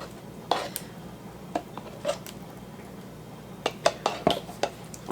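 Pesto sauce being stirred into a chicken casserole in a pot, heard as scattered spoon clinks and scrapes against the cookware, close and fairly quiet, a few isolated hits then a quicker cluster near the end.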